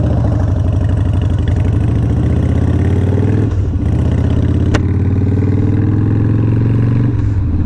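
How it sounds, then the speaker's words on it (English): A 2001 Harley-Davidson Deuce motorcycle idles close by, a loud, steady low-pitched V-twin rumble with uneven pulsing beats that continues throughout, with a brief click partway through. "Got my 2001 Harley Davidson Deuce out today."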